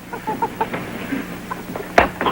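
A hen clucks several times in short bursts, close and fairly loud, ending with a sharper squawk.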